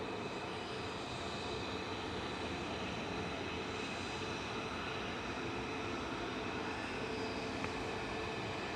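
An ATR 72-600 turboprop airliner arriving from Guernsey at Manchester Airport, heard as a steady, fairly faint broadband engine roar that holds evenly throughout with no voices.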